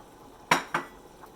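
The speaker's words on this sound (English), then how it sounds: "I'm going to add the broccoli so that it will stay al dente" Broccoli added to a pot of stew, heard as two sharp metallic clanks of a utensil against the pot in quick succession, then a faint third tap in otherwise quiet surroundings.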